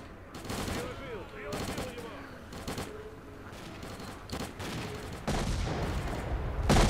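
Rapid bursts of gunfire from the video game S.T.A.L.K.E.R.: Clear Sky, repeated volleys of shots cracking in clusters, loud and close, with a heavier burst near the end.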